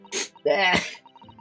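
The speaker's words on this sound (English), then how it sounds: "I'm about to sneeze." A person sneezes up close: a short sharp intake, then a voiced wind-up bursting into a loud breathy sneeze, followed by softer throat sounds in a quiet room.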